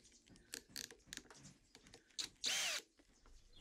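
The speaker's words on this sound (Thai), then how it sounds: "ต่อไปจะไปลองเจาะไม้กันดูนะครับโดยผมจะเปลี่ยนเป็นดอกใบพายเบอร์19" A SKIL 20V cordless impact drill, model HD52944SE20, fitted with a size 19 spade bit for boring wood, gives one short loud whirring burst after a few quiet clicks and handling knocks.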